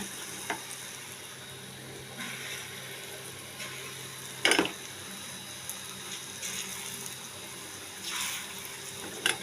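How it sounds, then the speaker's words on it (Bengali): Red lentil fritters (masoor dal bora), shaped large, frying in hot oil, giving a steady broadband sizzle with a few sharper crackling bursts and no talking. "আমি আজকে বড় বড় করেই ভেজে নিচ্ছি।"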